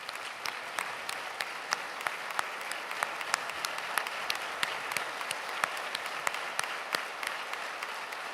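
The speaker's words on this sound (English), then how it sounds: "I'll ask them to stand so we can give them a round of applause" At an MLK vigil, an audience claps in sustained applause, steady and even throughout, with individual sharper claps standing out above the crowd.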